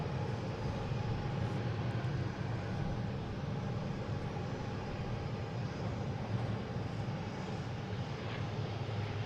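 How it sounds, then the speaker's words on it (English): A PAL airliner lands on the nearer runway at Boston Logan International Airport, its engine roar loud, broad and steady throughout with no one talking. "PAL landing on the closer runway, so that's going to be pretty close and fast"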